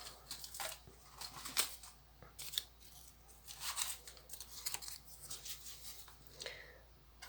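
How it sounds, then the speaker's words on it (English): Paper scraps and book pages torn apart by hand, giving a run of soft, close ripping and crinkling bursts at an irregular pace, fairly quiet with no talk. "I do not want straight edges on the front, so that's why I tear them apart"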